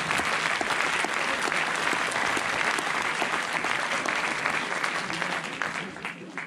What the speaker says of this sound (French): ils sont là ce soir, vous pouvez les applaudir